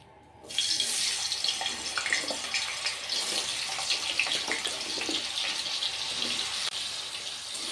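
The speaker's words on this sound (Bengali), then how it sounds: "তেলটা গরম হয়ে গেছে এবার আলুগুলো আমি গরম তেলের মধ্যে ছেড়ে দেবো" Diced potatoes drop into hot oil, and a loud, dense hissing sizzle bursts up after a short quiet start and then carries on steadily and close, with no talking.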